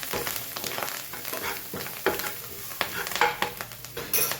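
Potato and pea sandwich filling mixed with salt in a pan, a steady soft sizzle with repeated scraping spoon strokes, close up and with no voices.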